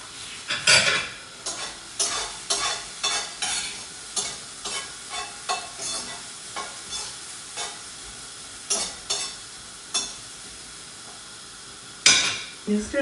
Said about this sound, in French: Et là je prépare un risotto.